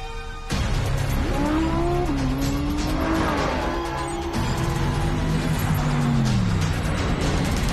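An Alfa Romeo Stelvio SUV's 280-horsepower engine drones steadily as it drives, its pitch rising and falling with gear changes, loud and close, with a faint squeal of tires.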